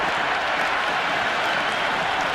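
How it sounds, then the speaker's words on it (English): Spectators in the stands at a Sri Lanka versus England T20 cricket match cheer and applaud after a big shot, a dense, continuous roar of crowd noise with no clear voices. "There's a buzz, a real buzz coming from the stands."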